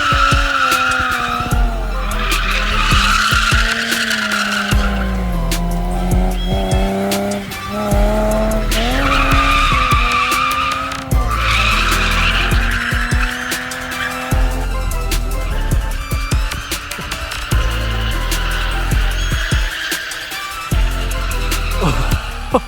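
A Toyota JZX100 with about 200 horsepower drifting on an uphill track, its engine revving and falling through gear changes while the tires squeal and skid in long, loud bursts, with no talk.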